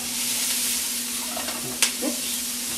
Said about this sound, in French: On va faire légèrement dorer les oignons